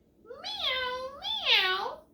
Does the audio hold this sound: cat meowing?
yes